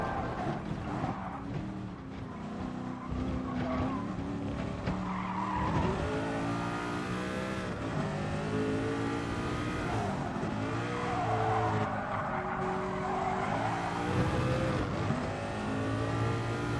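A race car in Gran Turismo Sport brakes hard into a corner, its engine note dropping and climbing through the gears amid long, loud tire squeals and skidding, with no voices over it.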